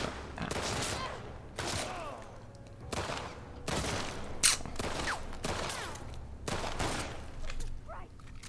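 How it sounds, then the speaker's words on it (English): Gunshots ring out in The Last of Us Part II, about seven sharp bursts spaced roughly a second apart, moderately quiet with echoing tails and faint background sounds between them. "I think I'm just gonna shoot him."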